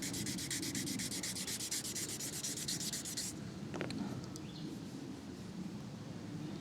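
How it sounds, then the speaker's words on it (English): A Remington 541-S rifle's wooden stock is hand-sanded near its checkering, steady close scratchy rubbing strokes that run continuously, with a faint bird chirp in the background. "you don't want to keep sanding and go all the way through"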